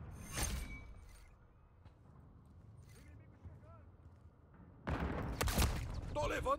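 Call of Duty Modern Warfare III gameplay with a sharp shot at the start and a quieter stretch of faint clicks and movement, then a loud close burst of gunfire and impacts toward the end, with in-game voice lines underneath.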